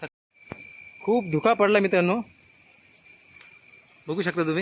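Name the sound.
crickets chirping in fog at a fort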